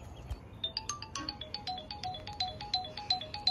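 A phone plays a bright melodic ringtone, a quick run of repeating electronic chime notes at steady rhythm, fairly loud and close with no talking.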